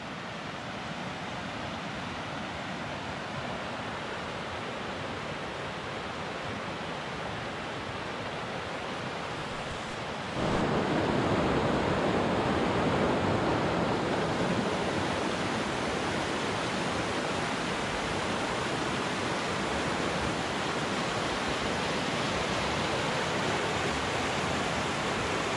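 The Vorderrhein, the upper Rhine in the Alps, flowing steadily as a broad rushing roar of water. It grows noticeably louder and nearer partway through and then stays constant, with no talking.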